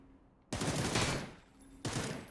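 Two heavy bursts of gunfire in a PUBG esports match, a long rolling volley followed by a shorter one, loud and booming with sustained echo.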